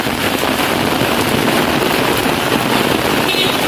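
Heavy rain pours down in Trinityville, a loud, unbroken roar of rainfall close to the microphone, with possible wind buffeting mixed in.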